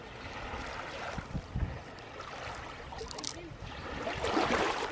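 Sea waves at a beach in Southampton, a rushing wash of surf mixed with wind buffeting the microphone, swelling louder toward the end, with a few knocks and splashes nearby.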